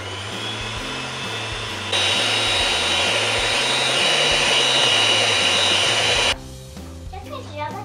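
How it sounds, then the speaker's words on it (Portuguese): An electric mixer beats cake batter in a home kitchen, a steady whirring motor that grows louder for about four seconds and then cuts off abruptly. "a gente vai bater agora na batedeira"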